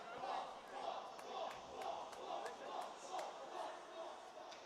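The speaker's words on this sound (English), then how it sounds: "UMass faithful fans down there. They're fired up. They're cheering it on." UMass hockey fans at a senior-night game against Boston College, a distant crowd roaring in rhythmic waves of chanting and cheering, with an announcer's voice over it.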